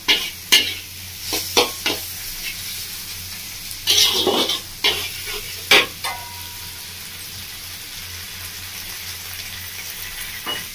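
Mushroom chow mein stirred and fried in a pan over a gas flame, a steady low sizzle broken by several sharp scraping stirs and utensil knocks against the pan, close and clear, no talk.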